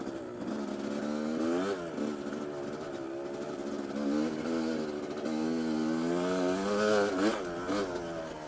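A two-stroke motorcycle engine runs steadily nearby, its buzzy revs climbing and falling in uneven blips throughout, loud and alone with no talk.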